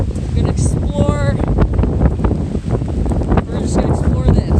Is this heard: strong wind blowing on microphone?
yes